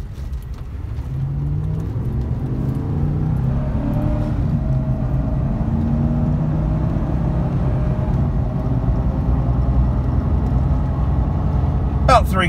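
Cabin-side drone of a 2011 GMC Sierra 1500 4x4 Z71 truck pulling at about three-quarter throttle, a steady loud engine rumble with rising tones that holds throughout, ending with a brief higher squeak.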